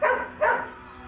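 Shelter dog at a rescue centre giving two quick, close barks, about half a second apart, then falling quiet.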